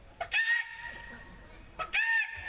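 Two short bursts of chicken clucking, each a sharp squawking call separated by a pause, heard close and fairly clear against a quiet background.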